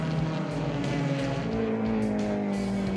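Race cars run side by side through a turn in a close four-car battle, their engines droning loud and steady with shifting pitch throughout, no voices on top.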